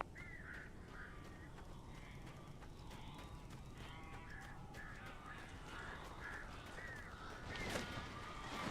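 Crows in Alan Wake Remastered give a series of harsh caws that repeat steadily and sound distant and faint over a low, rumbling game ambience.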